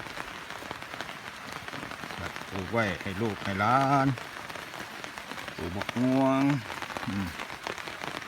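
Light rain patters steadily on a home vegetable garden planted with water spinach and other greens, a soft continuous hiss that carries on beneath someone talking nearby.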